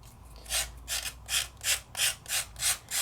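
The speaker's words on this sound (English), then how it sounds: "start sanding that paper off" Sandpaper rubbed over a papered craft surface in a steady back-and-forth rhythm, about eight close scratchy strokes with no talking.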